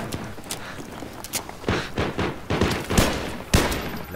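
Gunfire in Battlefield 3 during a hardcore gun game match, with several loud, sharp shots in irregular bursts over a noisy battle background, each blast broadband and close.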